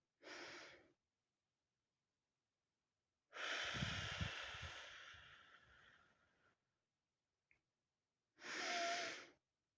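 Slow, deep breaths from an anxiety-relief breathing exercise: a short inhale, then a long, drawn-out exhale that gradually fades, and another breath at the end. Each is close and airy, separated by silence.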